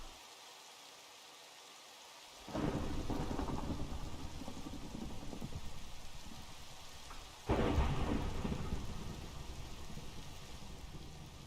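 Lightning strike with thunder in Minecraft: after near silence, a loud crack bursts into a long rumbling roll, then a second sharp strike hits and rumbles on, both close and heavy.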